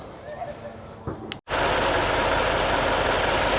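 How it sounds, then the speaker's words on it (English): Mercedes S63 AMG with a replaced M157 twin-turbo engine running after repair; after a short gap a loud, steady broadband engine roar holds continuously near the microphone, with some talk at the start. "As you can see, she's running. Engine's running."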